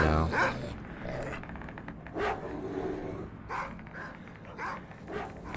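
Dogs growl and bark in a fight in the video game S.T.A.L.K.E.R., with several snarls and yelps scattered over continuous background game noise.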